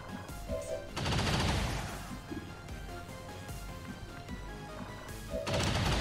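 Bursts of rapid suppressing gunfire from the video game XCOM 2 come in two loud volleys at the start and end, with quieter game sounds between them.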